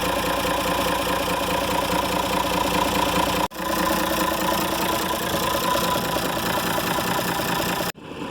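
A Unimog Freightliner FLU419 rescue truck's engine idles steadily while building air pressure, a close, loud, continuous rumble with a knocking texture, briefly cut twice and then resuming.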